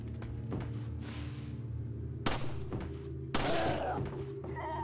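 Gunfire in the 2005 video game Resident Evil 4: two sharp, loud handgun shots about a second apart, each a bright crack with a brief tail, over a steady low ambient drone and scattered clatter.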